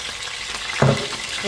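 Whole bay leaf, cinnamon, black pepper, cloves and four or five cardamom pods sizzle steadily in hot oil, with a brief louder crackling burst midway as they hit the pan, no voices.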